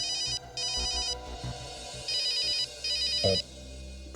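An electronic phone ringtone rings in a TV crime drama scene, a bright repeating melodic pattern in several bursts with short pauses, loud and close, with a brief clunk near the end.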